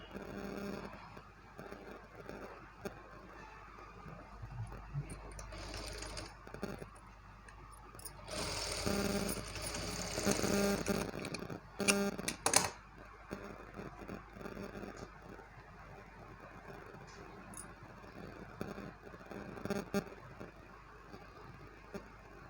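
A sewing machine stitching a decorative back neck design on a blouse, running in short bursts with pauses between them, close by and moderately loud, with some background noise and no talk.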